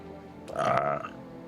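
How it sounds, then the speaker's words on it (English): A single short burp, moderately loud and close, lasting under a second against quiet room noise. "Had the burp."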